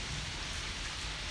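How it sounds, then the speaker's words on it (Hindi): Heavy rain pours outside during a sudden early-summer downpour, a steady, dense hiss of falling water heard from a distance at low level, without voices. "यहाँ पर जी साथ ही बहुत ही प्यारा बाहर मौसम हो गया था और एकदम से तेज़ बारिश स्टार्ट हो गई थी।"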